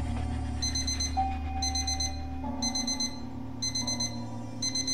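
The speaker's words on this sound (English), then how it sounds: "this beeping's freaking irritating" Electronic beeping from a fully automatic electric toaster, bright chirps repeating in a steady rhythm about once a second over a constant low hum and background music, loud and close.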